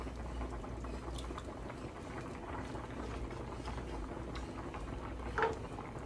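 Beef broth simmering in a pan for shepherd's pie makes a steady, quiet bubbling with a faint low rumble beneath, unbroken and close, with one slightly louder pop near the end.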